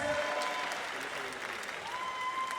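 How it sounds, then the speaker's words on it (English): Steady applause from a crowd at a combat sports event fills the whole stretch, dense and continuous at an even level, with a faint tone drifting through the background. "let's give it a round of applause for him"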